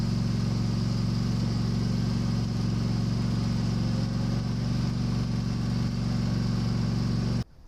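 Countach A25 mower with a scarifier attachment running steadily on a cricket square, a constant droning engine hum with a tinny buzz that holds level throughout, then cuts off abruptly at the end.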